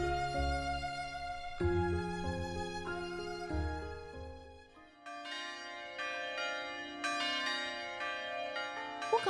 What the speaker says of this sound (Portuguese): os sinos holandeses